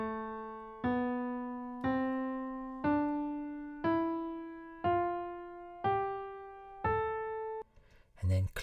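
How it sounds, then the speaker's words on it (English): A natural minor scale played on a sustained tonal instrument, eight separate ascending notes at an even pace of about one per second, each with a clear attack and decay, followed by a brief noisy sound at the end. "First off, we have this kind of scale, which is called a natural minor."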